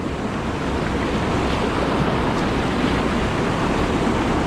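Broadband rushing water from a river chute during a kayaking session, a steady loud roar throughout with some wind noise on the microphone and no voices.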